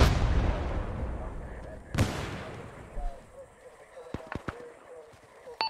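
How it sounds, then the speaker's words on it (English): Mortar rounds firing in the Vietnam-era game Arma 3 S.O.G. Prairie Fire: a dense barrage fades, then a sharp loud boom, followed by scattered nearer pops and cracks, with talk underneath. "it's fired off mortar rounds"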